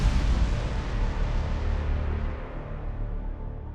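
A spaceship blowing up in the space battle game Battlefleet Gothic: a loud, deep rumbling blast that rolls on and slowly fades and darkens over several seconds.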